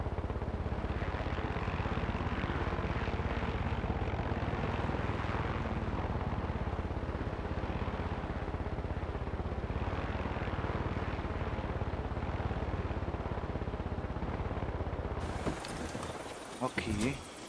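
A helicopter flies in the video game Far Cry 6, a dense, loud, unbroken rotor and engine roar that fills most of the stretch before abruptly thinning out near the end.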